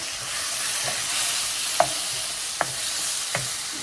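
Spinach for saag paneer being stir-fried in a pan, a soft continuous sizzle broken by three distinct spatula scrapes and taps, close and fairly quiet, with no voices.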